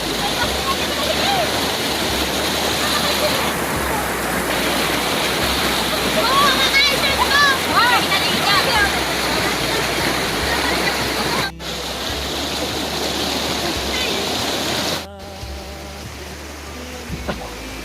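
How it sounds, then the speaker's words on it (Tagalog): A strong, fast-flowing river current rushes loudly and continuously, with splashing water close by. Voices are faintly audible in the background, and there are a couple of brief dropouts near the end. "Medyo malakas ang agos na yun."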